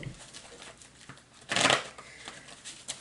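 Tarot energy cards being handled and shuffled, a soft close riffle of card stock with one louder flurry midway, quiet and without talk.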